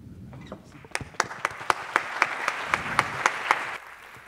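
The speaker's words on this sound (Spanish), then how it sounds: "Un aplauso mucho más grande" A crowd at a journalism awards ceremony applauds, with steady rhythmic clapping building up and then stopping, fairly loud and close.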